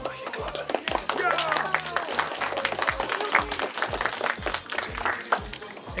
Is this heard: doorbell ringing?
no